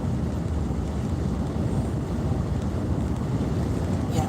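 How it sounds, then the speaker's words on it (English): Strong wind roars continuously across the microphone, a loud steady rumble without gaps or voices. "We got tons of wind today."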